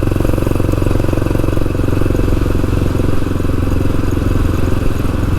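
A Yamaha XT500 motorcycle, geared down with a larger front sprocket and a smaller rear one, thumps along at low RPM while cruising. The single-cylinder engine pulses steadily and loudly close by, with a rapid even beat and no voices.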